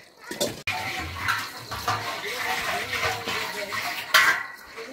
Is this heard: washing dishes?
yes